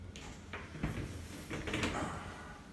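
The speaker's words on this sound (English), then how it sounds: "So I'm just coming through the front door." Apartment front door opening, with a few close scraping and clunking bursts of handle and frame movement over a quiet room, no talk.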